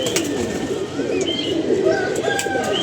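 Pigeons coo in a soft, steady low warble, close and continuous, with a few thin chirps and a brief flutter of wings mixed in.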